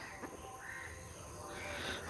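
A crow caws a few times at a distance over steady background hiss, with the calls somewhat faint and spread across the moment, in misty hills near a railway line.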